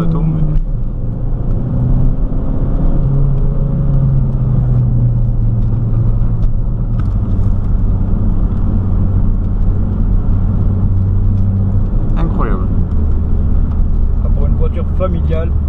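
A Saab 9-3 1.8t running on E85 accelerates, its engine rumbling and rising in pitch from inside the cabin while people talk over the steady road noise.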